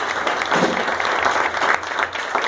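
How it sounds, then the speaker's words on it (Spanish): A dense, steady burst of applause from an audience at a community event, loud and continuous throughout without a break. "Quiero pedir un fuerte aplauso a Nati"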